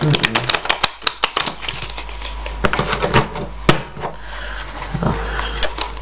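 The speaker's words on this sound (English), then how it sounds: "I can shuffle pretty good with this deck here." A warped deck of cards is shuffled close up, a run of rapid crisp riffling clicks and snaps with brief pauses between bursts, and some faint movement noise behind.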